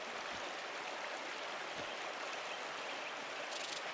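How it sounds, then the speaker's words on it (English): Waterfall in the video game Pentiment, a soft, constant rushing hiss of falling water, faint and even throughout with a brief faint high-pitched flutter near the end. "It's a nice waterfall."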